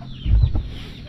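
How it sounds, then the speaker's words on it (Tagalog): Chickens cluck outdoors in a short, close, low burst of clucks against soft background ambience. "Ayun na naman naghahari dito mga manok."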